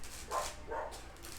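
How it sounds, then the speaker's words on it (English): Dogs barking somewhere in the background, two faint, muffled barks roughly half a second apart under a steady low room hum. "There's dogs barking, whatever."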